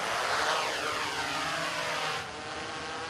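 A rescue service drone from a mobile operational group's converted ambulance command vehicle hums with a steady, close propeller buzz, then drops slightly in level near the end.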